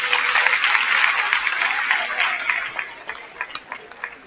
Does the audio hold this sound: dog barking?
no